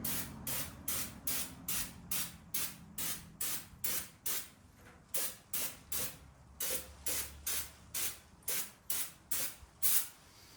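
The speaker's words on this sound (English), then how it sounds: "Can of brake clean, we'll just hose it, just get rid of the rest of the residue." A can of brake cleaner sprays engine parts from a Honda Goldwing stator job in a quick run of about twenty short, loud hissing bursts, evenly rhythmic with brief gaps between each spray.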